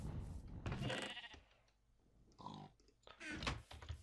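Minecraft sheep bleat repeatedly in quick, wavering calls, close and loud, with a short pause in the middle; the tone sounds synthetic, like game audio.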